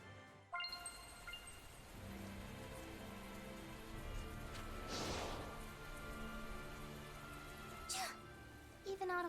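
Steady rain patters through a cold outdoor scene in the video game Tales of Zestiria, a constant wash with brief bright swells, continuing under the game's background sounds.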